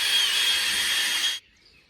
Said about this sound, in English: we got our hole drilled